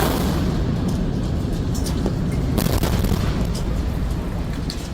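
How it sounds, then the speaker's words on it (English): A giant cooling tower brought down by demolition explosives, heard as a continuous heavy roaring rumble with crackling debris and a few sharper bursts throughout, loud and sustained without talk. "With a single thunderous explosion,"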